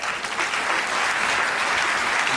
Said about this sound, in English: let's give these volunteers a nice round of applause.